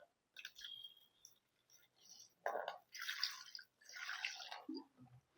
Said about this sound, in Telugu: సో చూడండి, వాటర్ అయితే పోసేస్తున్నా.